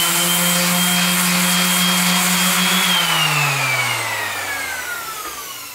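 A power sander with 40 grit paper grinding down a tail ding on a surfboard, a loud steady whine that drops in pitch and fades slightly toward the end as the tool slows under pressure.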